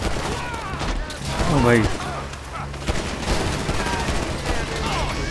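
Rapid video game gunfire rattles in repeated bursts alongside engine and effect noises, loud and busy, while someone shouts excitedly over it.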